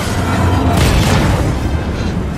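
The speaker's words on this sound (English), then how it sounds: "Big explosion" A big explosion in the video game Jedi Fallen Order, a loud, sustained rumbling boom with dense low-end roar that fills the whole moment, heard alone without talking.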